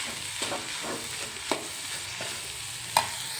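Grated coconut is stirred into horse gram palya in a hot pan: a soft continuous sizzle carries under rhythmic spatula scrapes, with a few sharper clacks against the pan, close and with no talking.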